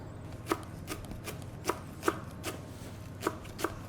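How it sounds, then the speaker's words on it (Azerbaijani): A knife chops parsley on a cutting board for a stuffed onion dish, giving sharp, evenly spaced taps, some in pairs, close and clear over a quiet kitchen background. "Və indi cəfərini doğrayaq bura."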